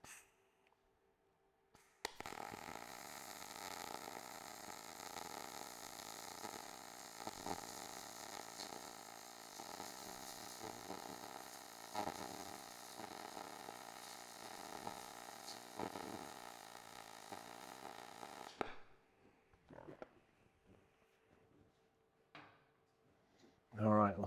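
MIG welder laying a drag bead on steel: a steady, close crackling buzz that runs unbroken for about sixteen seconds and then cuts off, followed by quiet handling noises.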